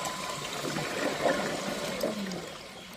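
A magnetic drive liquid pump runs with water in its system, giving a steady, close whooshing hum of circulating water with faint gurgles, continuous throughout and with no talk.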